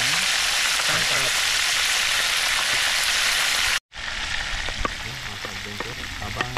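Food frying in a pan for Filipino escabeche, a loud, steady, dense sizzle that fills the whole stretch, broken by one very short silent gap partway through.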